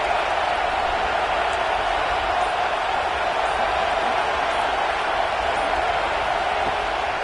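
A football stadium crowd roars steadily through a third-down defensive stand, a dense, sustained wall of cheering at constant high volume with no breaks.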